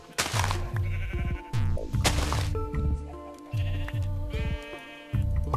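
Several sheep bleat loudly in quick succession in Minecraft, wavering nasal cries overlapping with short thumps and clicky game sounds in between.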